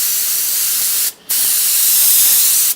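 Alcohol stain sprayed onto a wooden western plaque sign in two close, loud, steady hissing bursts with a brief pause between them.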